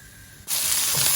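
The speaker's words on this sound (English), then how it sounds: "here's a finely chopped onion that goes into the cumin. I'm just going to cook it for 5 minutes." Finely chopped onion dropped into hot oil with cumin seeds: quiet at first, then a sudden loud hissing sizzle bursts up and holds steady and close, with no talking.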